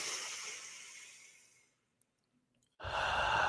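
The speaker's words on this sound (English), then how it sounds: "breathing it out, completely releasing all of the breath and energy that is within your lungs" A long, full exhale empties the lungs and trails off into near silence. After the pause comes a sudden loud rush of breath. The breathing is close and heard alone.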